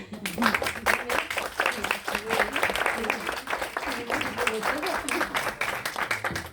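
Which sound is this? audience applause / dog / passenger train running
audience applause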